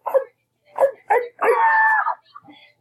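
A man imitates a dog with a run of short yelps and a drawn-out whining howl, in bursts separated by brief silences.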